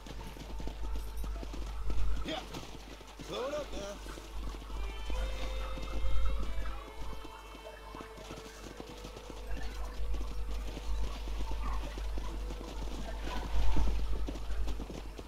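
Horse hooves clip-clop in a steady walking rhythm in the Red Dead Redemption video game, close and clear, with faint background sounds and no talking over them.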